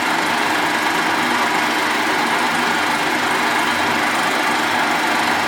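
A machine cuts a thin skim a couple of thou deep off a part on a plate, giving a steady, loud, broadband grinding hiss with an even texture throughout and no voices.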